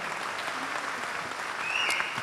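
A crowd at a Jakarta concert applauds a rock band, a broad, even wash of clapping with a brief cheer or whistle rising near the end.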